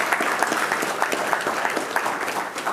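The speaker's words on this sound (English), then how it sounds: "I'll take awkward clapping." Light, scattered audience clapping after a conference talk on macOS GUI scripting, a modest crowd giving a brief, uneven round of applause that stays steady for a few seconds.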